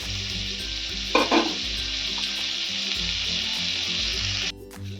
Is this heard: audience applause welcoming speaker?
no